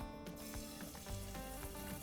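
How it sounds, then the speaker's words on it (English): Seasoned wood duck breasts sear in a hot pan, giving a steady, dense sizzle that holds throughout at close range with faint crackles and no talk. "It's the sound you want when you're searing."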